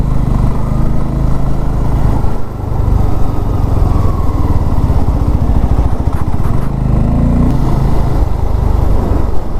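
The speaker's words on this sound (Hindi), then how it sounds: "हमें बाइक चलानी होगी।" Motorcycle ridden on a curving hill highway toward Solan, its engine droning loudly and close throughout, with one brief dip and a short rev partway through.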